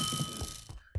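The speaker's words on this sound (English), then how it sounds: "Ding! I love that sound." A bright video game ding rings out once, a short clear chime that appears near the end, following a brief mechanical whir and clatter.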